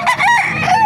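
Rooster crowing at a Calumpit, Bulacan chicken market, one loud close crow with a rising then held and falling call, filling the short moment.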